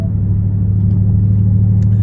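A deep, steady engine drone with low rumble, heard from inside the cab of a 2024 Ford Mustang GT with a Stainless Works Legend active exhaust in track mode, constant and loud without any voices.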